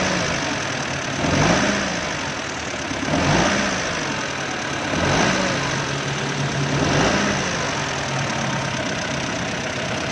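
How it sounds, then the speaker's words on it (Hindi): A Mitsubishi Mini Pajero engine idles roughly with a heavy misfire, its steady mid-pitched running broken by uneven pulses and periodic surges that rise and fall about every two seconds. "गाड़ी को स्टार्ट किया है। स्टार्ट करने के बाद गाड़ी में मिसिंग है बहुत ज़्यादा।"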